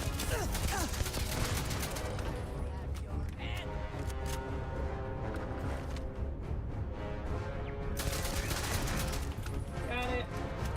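Bursts of gunfire in the space game Starfield, with loud, sharp shots and rapid volleys over busy game sound, and someone talking partway through.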